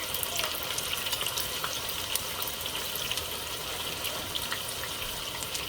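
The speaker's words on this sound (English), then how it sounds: "So it has been about 3 minutes since I'm frying the onions." Onions sizzle and crackle in a hot pan while frying for butter chicken biryani, a steady frying hiss with scattered pops, close and fairly quiet.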